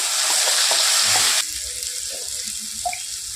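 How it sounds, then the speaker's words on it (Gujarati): Prepared gravy poured into a sizzling pan of frying cashew-garlic curry brings a loud hiss that suddenly drops, followed by softer bubbling and occasional stirring scrapes. "હવે આ તૈયાર કરેલી ગ્રેવી છે ને એ આપણે એડ કરીશું"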